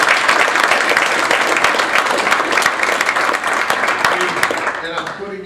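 A dense, loud round of applause fills the room at the OCU Blue-White Luncheon, a large audience clapping continuously before thinning out at the very end.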